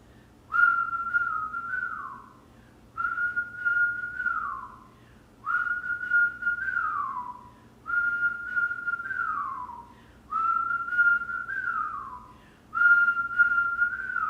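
Six repeated whistled phrases from a kundalini yoga class, each a held note sliding down at the end, evenly spaced with short pauses between.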